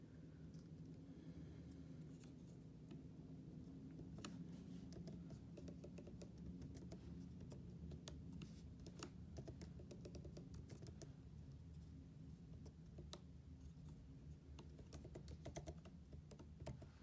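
Typing on a 2020 MacBook Pro keyboard: a steady run of light, quick key clicks at close range, continuing with no talk over a low background hum.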